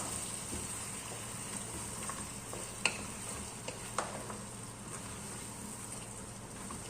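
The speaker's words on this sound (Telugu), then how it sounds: "అంతా కలిసేంత వరకు కలిపేసుకోవాలి." Carrots and vegetables are stirred into dal in a pan, a faint steady sizzle underneath with a few light scraping clicks of the spoon, no talking.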